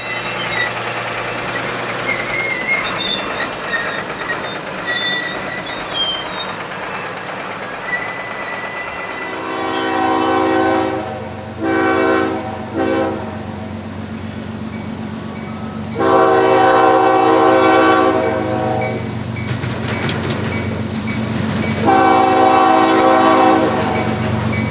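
CSX freight train on an urban line, with a rumbling engine and wheels, then several long, loud blasts of the horn with short breaks between them.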